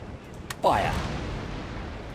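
Ship cannon broadside from a fifth-rate frigate in Empire Total War: a sharp report, then a loud rolling boom that sustains and slowly decays over the rest of the moment, with a voice faintly present.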